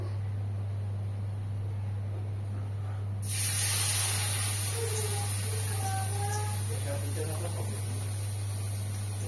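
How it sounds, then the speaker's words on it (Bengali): Shiuli (night jasmine) leaf fritter slipped into hot oil: after a few quiet seconds with a low hum, a sudden loud, steady sizzle and hiss erupts and carries on to the end. "এই পাতাটাকে এইভাবে আমি তেলে দিয়ে দেবো।"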